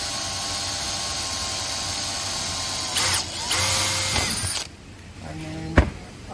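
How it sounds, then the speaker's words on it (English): Power drill pre-drilling with a 3/0 bit for a ZipGrip centre lock assembly, a steady whine rising in pitch in short bursts, then winding down, close and fairly loud. "I'm going to pre-drill this with a 3/0 drill bit, just dropping through the first side only."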